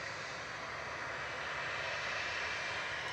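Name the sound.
Ryanair airliner flight 5476 to Verona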